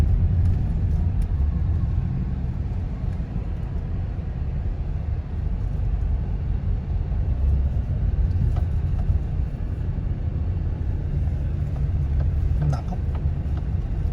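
Traffic on the road at the Balintawak cloverleaf in Quezon City, a continuous low rumble of engines and tyres, loud and close, with passing vehicles blending together and a person talking faintly under it.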